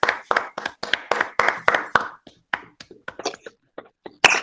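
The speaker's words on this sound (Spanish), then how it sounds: "podemos dar un gran aplauso a Jess y a todos los que han ido haciendo las cosas" A small group, likely on a video call, claps for Jess and the organisers: a run of distinct, close handclaps that starts dense and loud, then thins out into a few scattered claps before a final burst.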